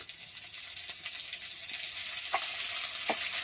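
Ginger-garlic paste frying in hot oil with panch phoron makes a continuous close sizzle that grows slightly louder, marked by a few sharp pops and crackles, with no voices.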